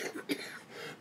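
A single short cough, fairly close and moderately loud, followed by a brief quiet breath.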